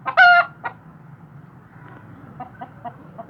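An Aseel rooster and hens on a rooftop with mud, a loud close squawk at the start followed by a short cluck and then soft scattered clucking over quiet background.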